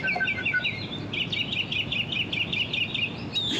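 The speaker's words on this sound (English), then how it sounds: "Nothing but beautiful bird noises at the first stop." Birds call and chirp in repeated bright bursts one morning outside apartment complexes, fairly near over a steady low background hum, with no talking.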